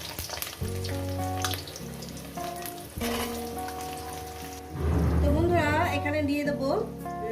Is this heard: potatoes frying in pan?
yes